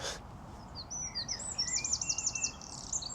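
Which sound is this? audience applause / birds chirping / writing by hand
birds chirping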